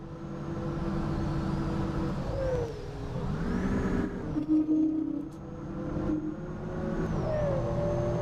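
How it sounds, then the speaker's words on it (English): A bus engine in the OMSI 2 bus simulator hums with a steady low purr, rising and falling through revs over a continuous drone, with faint whirring tones above it and no talking. "I don't know what the purring is."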